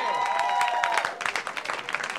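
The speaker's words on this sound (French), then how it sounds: "je vous demanderais une bonne main d'applaudissement" An audience at a comedy show applauds two performers with a burst of dense clapping and crowd noise, while a sustained tone and cheering voices mix in before the claps grow choppier.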